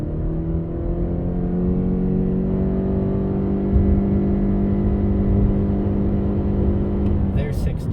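2020 Subaru Crosstrek 2.0i Premium with a Lineartronic CVT launching from a brake-torque start, its engine droning loud and steady at high revs inside the cabin, with a voice speaking over it.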